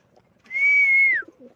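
A pigeon gives a single drawn-out whistled coo lasting about three-quarters of a second, close and clear against a quiet background, with no talk.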